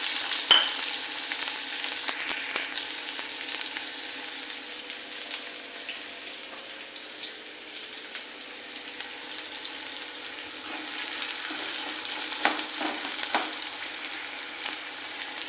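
Onion frying in a pan with mustard seeds, cumin and curry leaves, a soft steady sizzle that runs throughout with occasional stirring clicks, fairly quiet and with no speech.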